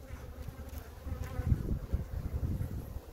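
Honeybees buzz around an open hive during an inspection of frames with unhatched brood, a soft, close, fluttering hum that rises and falls, with no talking.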